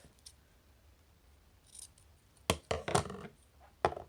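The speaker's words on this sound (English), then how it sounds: "I'm going to kind of measure it and cut it off" Scissors snipping through colored plastic straws for a homemade pan flute: a few sharp, crisp cuts in quick succession and one final snip, close and fairly loud against a quiet background, preceded by faint handling rustles.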